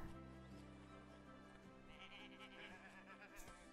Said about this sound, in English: Oh, there are sheep.